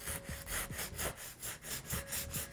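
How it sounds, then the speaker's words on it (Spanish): A 150/150 nail file is run along the sides of an acrylic nail, making quiet, close, evenly spaced rasping strokes in a quick steady rhythm. "Voy a comenzar a limar los laterales, en este caso con mi lima 150-150 Deken."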